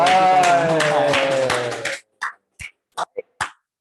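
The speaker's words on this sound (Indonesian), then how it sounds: "Tepuk tangan." A crowd of elementary school students and adults at a sixth-grade barbecue event, with loud voices and scattered claps, thinning into a few separate sharp claps.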